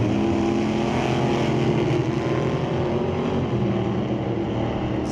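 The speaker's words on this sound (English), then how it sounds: "Clean launch for both drivers." Drag race cars, a 2003 Cavalier and a '27 Roadster, launch from the start line at Mission Raceway Park with a loud, sustained engine roar that stays dense and steady throughout.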